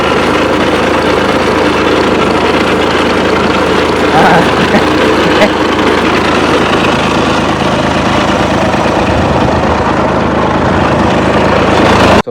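A tractor engine idles steadily nearby, a continuous low, heavy rumble with a faint knocking vibration that holds unchanged throughout.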